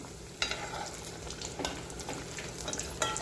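Kofta frying over high heat in a little oil that is spooned over them: a soft, steady sizzle with a few sharp spoon clinks against the pan.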